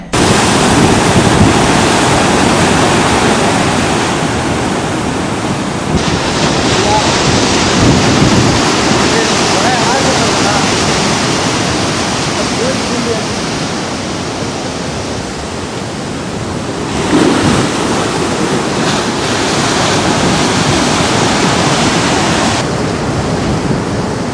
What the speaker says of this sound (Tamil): வங்கக்கடலில் உருவாகியுள்ள புயல் சின்னம் காரணமாக புதுவையில் கடல் கொந்தளிப்புடன் காணப்படுகிறது.